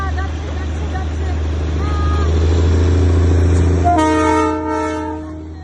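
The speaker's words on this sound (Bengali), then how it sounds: "দার্জিলিংয়ের টয় ট্রেন, আহা, যাচ্ছে যাচ্ছে যাচ্ছে।" Darjeeling toy train of only three or four small carriages rolling past near Batasia Loop, a steady close rumble with a loud, sustained horn toot near the end while people talk over it.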